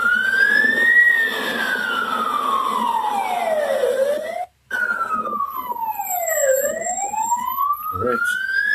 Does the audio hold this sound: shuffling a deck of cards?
no